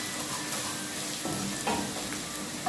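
Ground tomato hits a pan of frying masala with garam masala. It gives a steady, moderate sizzle with small crackles and stirring scrapes, close by and with no one talking.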